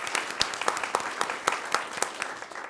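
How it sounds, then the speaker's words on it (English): An audience applauds a student at a school board recognition event, a steady patter of many hands at moderate distance with a few sharper claps standing out, no talk over it. "So let's give her a round of applause."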